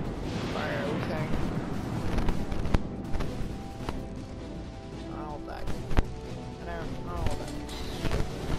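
Naval guns fire from the cruiser Pensacola in World of Warships on PS4 as loud, deep booms over a constant rumbling battle din, while a player talks throughout.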